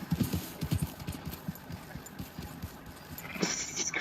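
Horse hooves clip-clop in a quick, steady rhythm in the Red Dead Redemption 2 video game, close and clear at first, then thinning out as a higher hiss rises near the end.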